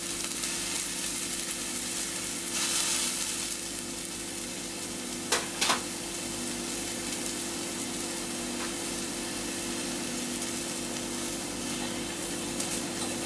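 Food browns in a hot pan with a steady, even sizzle that holds for the whole stretch, broken by a few brief clinks and scrapes near the start and middle, with no voices.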